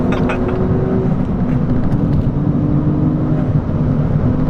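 A Ford Fiesta ST with a Stage 3 tune accelerating hard, heard from inside the cabin as a loud, continuous engine drone whose pitch climbs and holds, with road noise underneath.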